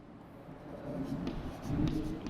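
A pen scratches across paper during a maths lesson on surface area and volume, a soft, close, continuous scribbling that grows slightly louder toward the end.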